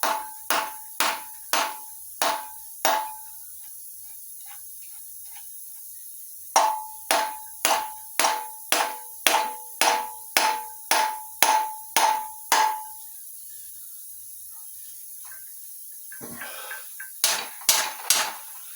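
A hammer taps a new suspension bolt into place on the front right suspension of an Avro Speedster: sharp, ringing metallic strikes in quick rhythmic bursts, with a pause between groups and a few lighter taps near the end.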